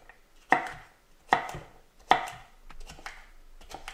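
Knife chopping courgette into cubes on a board: three sharp, loud cuts about 0.8 seconds apart, followed by lighter, quicker chops.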